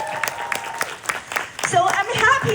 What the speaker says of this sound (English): our round of applause for New Skin